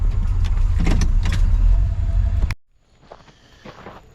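A 1970 Chevelle engine runs rough at too-low idle, a loud uneven rumble for a few seconds that cuts off abruptly, leaving faint quiet noises.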